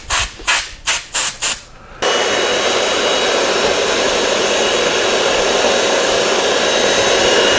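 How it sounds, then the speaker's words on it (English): Compressed air blows dust out of an air conditioner unit: several short hissing bursts, then a long, steady, loud rushing blast of air, close up. "we're going to blow a little bit of the stuff out very lightly with the air into some of the control areas"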